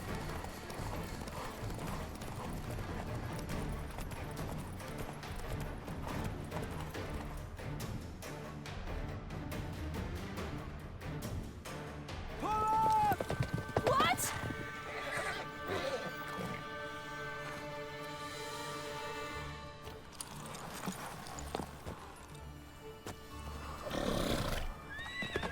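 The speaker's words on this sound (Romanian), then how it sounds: "ce stamine nașpa are calul ăsta" A horse gallops and neighs in The Witcher 3, hooves pounding under a busy game soundscape with crashes and whinnies rising midway, fairly loud throughout.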